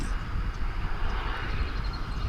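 A fixed-wing airplane at Dallas/Fort Worth International Airport gives a steady, moderately loud engine roar with a low rumble throughout, and no voices are heard.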